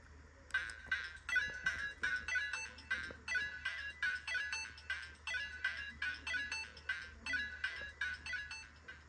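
A toy arcade machine Bath & Body Works Pocketbac holder plays a bright electronic jingle of quick beeping tones in repeating bursts, close and clear with no talking.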